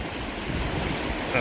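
The Salmon River in New York flows just below the town pool, a steady, close rushing wash of water with no pauses for the whole moment.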